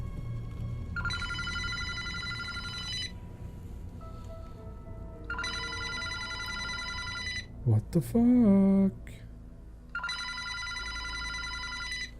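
A landline telephone rings in repeated bursts of bright electronic trilling, three separate rings with pauses between, heard indoors under a low hum, while a man swears and handles something in the gap between rings.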